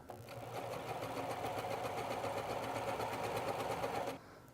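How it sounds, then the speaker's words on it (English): A sewing machine stitches fabric in a short burst, its rapid mechanical whirr steady and close for about four seconds before stopping abruptly. "sew a little bit and stop"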